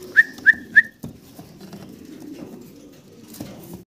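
Three quick, high whistled chirps open the scene. Then German Beauty Homer pigeons coo in a low, soft murmur that carries on steadily, rising a little again near the end.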